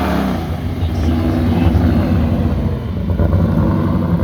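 A 1966 Pontiac GTO race car with a carburetor and no AC rolls up at an outdoor car show, its engine a loud, continuous rumble with rising and falling revs over crowd murmur.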